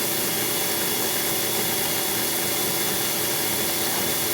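An Amrac KM-2 Sport electric motor with flipped magnets runs steadily as it warms up, giving a loud, smooth, continuous high whir with no voices.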